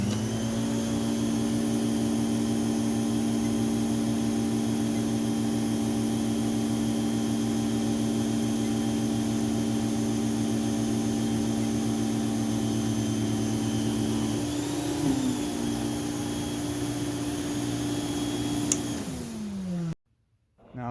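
A Swedish Viking 739 vacuum cleaner runs steadily with its power nozzle attached, a loud constant motor drone with layered tonal whine, shifting briefly near the end before cutting off abruptly.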